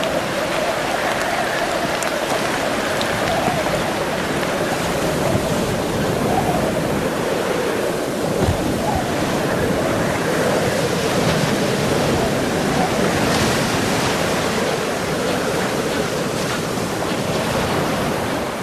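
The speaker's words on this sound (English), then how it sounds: "Rapid fronts and squalls continually sweep in from the ocean wastes, blasting everything in their path." Ocean squalls blow in off open water, bringing wind-driven rain and surf in a dense, continuous roar of wind and crashing water that stays loud and unbroken throughout.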